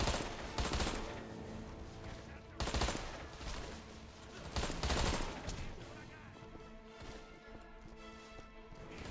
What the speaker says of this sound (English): This is a good gun. This is like the assault rifle of the game